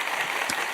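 A brief burst of canned applause plays as a sound effect to welcome a stage guest, a steady wash of clapping heard alone for under a second.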